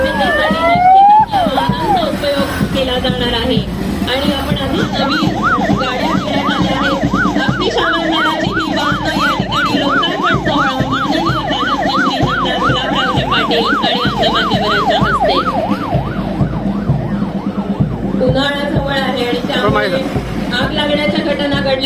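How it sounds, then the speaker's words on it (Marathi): A long column of emergency and fire brigade vehicles, including new fire engines, passes in a Republic Day parade in Jalgaon district. Loud, rapid yelping sirens cycle steadily and overlap for about twenty seconds while people talk over them. "ही त्रेसष्ट वाहनं आपल्या समोरून जात आहेत"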